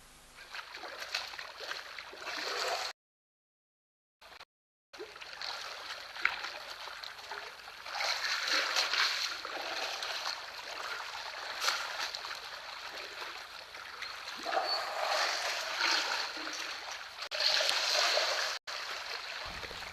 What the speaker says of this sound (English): You can hear quite a bit of splashing taking place.